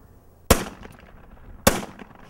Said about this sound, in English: I'm going to show you how to shoot skeet.